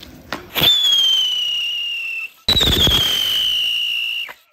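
Two Coke-brand Diwali firecrackers go off one after another, each a loud whistling shriek that slides slowly downward for about two seconds before cutting off, with no talk over them.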